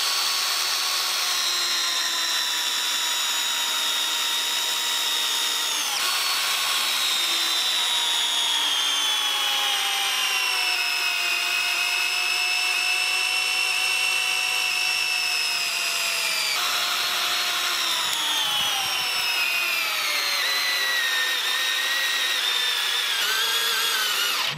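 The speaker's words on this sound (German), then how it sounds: "Jetzt muss man aber bedenken, dass dieser Akkuschrauber nur für diese beiden Schrauben gedacht ist und nicht für so ein großes Monster hier." A DeWalt DCD710 12-volt cordless screwdriver drives a large screw into wood with a loud, close, continuous whine whose pitch slowly sags and shifts as the motor strains, with a few short breaks.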